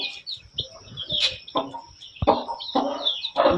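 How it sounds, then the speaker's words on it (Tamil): Chickens, including guinea fowl, cluck and call around a poultry farm yard, a mix of short squawks and chirpy notes, with scattered rustling and thumps close by. "உள்ள வந்து எவ்வளோ கோழி இருக்கு பாருங்க."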